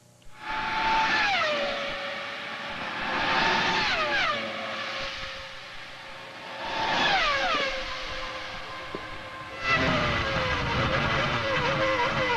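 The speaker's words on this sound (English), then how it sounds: "The power of that Arrow Supertech engine." A high-pitched Formula One race car engine, an Arrows Supertec, screams through repeated gear shifts at the 2000 German Grand Prix, revs dropping in stepped sweeps as the car passes, loud and continuous.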